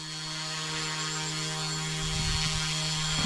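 A YuXiang F07 Bell UH-1D beginner RC helicopter hovers nearby, giving a steady whining drone with strong tonal harmonics and a buzzing rotor, with a few low thumps toward the end.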